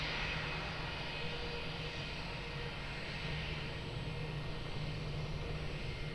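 A jet airliner at Lisbon Airport during takeoff, a steady distant roar of engines with a low hum underneath, fairly faint and continuous with no voices.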